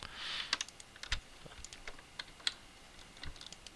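Computer keyboard and mouse clicks while modelling in Blender, a quiet, irregular patter of close key taps and clicks in uneven bursts with no voice.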